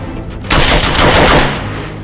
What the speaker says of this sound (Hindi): 1 मिनट में 700 गोलियां इस कार्बाइन से निकलती है